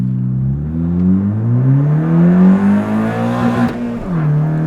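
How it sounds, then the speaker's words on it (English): An untuned Honda Fit with a K24 engine revs hard, its note climbing steadily for several seconds before slamming into the rev limiter and stuttering back down; loud and close, with no talking. "That was against the rev limiter."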